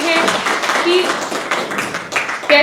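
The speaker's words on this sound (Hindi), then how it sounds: "तो जोरदार तालियों के साथ सर का स्वागत करते हैं हम मंच पर" An audience at a Bihar motivational stage event claps to welcome a guest, a patter of applause that rises and falls under an overlapping voice.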